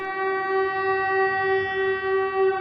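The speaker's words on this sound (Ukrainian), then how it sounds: "Чергове лунає сигнал повітряної тривоги." An air raid siren sounds over Odesa in the evening, a steady, loud, sustained mechanical wail with a rich, unchanging pitch that holds throughout with no voices.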